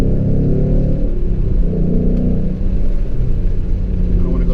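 A 2015 Mustang GT with its Coyote V8 and Gibson exhaust pulls hard in third gear, a loud deep continuous rumbling drone heard from inside the car, steady throughout with no talk.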